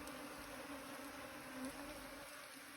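Many honey bees swarm around a wild hive, making a dense, steady buzzing drone that stays close and continuous throughout, with no voices.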